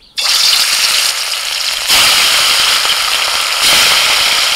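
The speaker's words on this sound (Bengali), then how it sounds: "কড়াই তেল দিয়েছিলাম, তেলটা গরম হয়ে গেছে, এখন ইলিশ মাছগুলো ভেজে নেব।" Hilsa fish frying in hot oil in a wok: a loud, close, continuous hissing sizzle that bursts in as the fish goes in and surges louder twice as more pieces are added, with no talking.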